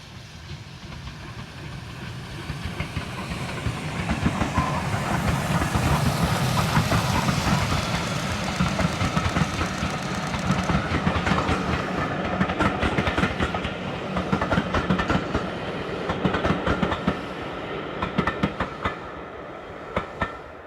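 A steam train rumbles past close by in North Yorkshire, loud and heavy, its wheels clattering in a steady rhythm before the roar gradually fades.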